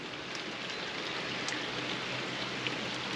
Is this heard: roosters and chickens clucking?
no